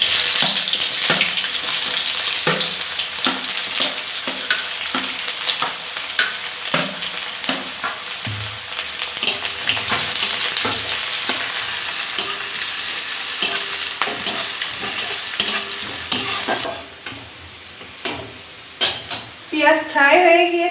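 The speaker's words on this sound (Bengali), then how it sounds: "এবারে দিয়ে দেবো পেঁয়াজ কুচি।" Chopped onions fry in hot oil with panch phoron for a capsicum dish, a continuous loud sizzle punctuated by repeated scraping and clinking stirs, easing near the end into quieter hissing with a few sharp knocks.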